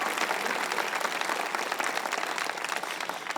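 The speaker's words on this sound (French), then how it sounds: "Voulez-vous applaudir, Nouvelle Vie?" A church congregation at a 25th-anniversary service claps in a dense, sustained round of applause, loud and continuous with no voices on top.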